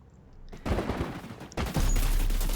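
Gunfire in the video game Kompete, rapid loud shots bursting in and cutting off, then a second heavier barrage that rises and holds near and dense to the end.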